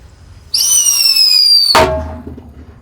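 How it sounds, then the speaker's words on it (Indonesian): A Whistling Thunder firecracker is lit inside a large drum. A loud, shrill whistle holds for just over a second, then a single heavy bang booms and echoes out in the drum, with no talking. "Whistling thunder."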